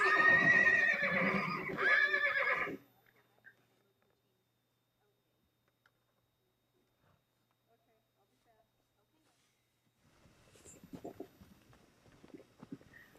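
Wild mares and foals held on opposite sides of a fence during a horse roundup call to each other: one loud, close whinny opens, then after a long quiet stretch fainter answering calls sound in the distance.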